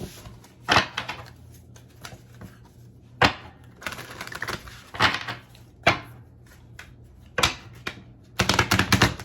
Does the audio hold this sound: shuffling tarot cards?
yes